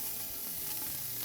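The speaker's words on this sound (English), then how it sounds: "We're gonna saute this for about 4 minutes." Diced celery, onion and carrot sauté in oil with a soft, steady sizzle that stays even and close throughout.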